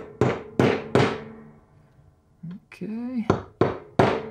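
An old .38 Special brass cartridge case used in place of a brass hammer taps a pin into an AR rifle part resting on plywood: several sharp, close metallic knocks in a quick series, with a brief spoken word between strikes.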